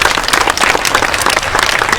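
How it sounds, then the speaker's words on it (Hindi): An audience at a Hindi stage play about drug addiction claps loudly and continuously, a dense crowd of applause filling the whole moment. "तो मैं चाहूँगा एक बार गज के जोरदार ताली अपने लिए लगाइए।"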